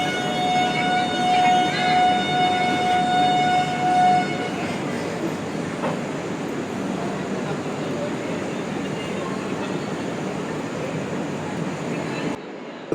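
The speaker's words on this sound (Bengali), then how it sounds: "আমাদের ট্রেন এখন ছাড়ছে টাটানগর।" The Kriya Yoga Express pulls out of Tatanagar station in a steady, loud rumble of rolling carriages. A long, high horn or whistle tone sounds over it for the first few seconds before the train noise continues alone.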